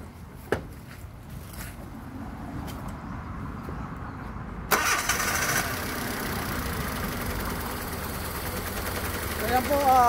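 A Honda Civic engine cranks and catches with a sudden loud onset, then idles roughly and unevenly, misfiring from a dead ignition coil. Someone talks over the running engine.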